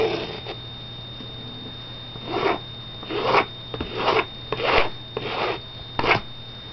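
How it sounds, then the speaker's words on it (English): A card scrapes excess gesso texture medium off a canvas in a series of rasping strokes, each one short and close, with brief pauses between them and a steady faint hum underneath. "So what I'm doing is scraping the excess off"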